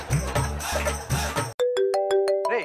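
A phone ringtone rings out in a comedy skit, a loud electronic melody of sustained tones that cuts in abruptly after a burst of music and plays alone to the end.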